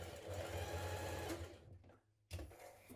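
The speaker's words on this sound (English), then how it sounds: "We're now going to stitch that in place." A sewing machine stitches straps onto a dungaree bib, its rapid, even motor whir running close and loud for about two seconds before pausing briefly and starting again.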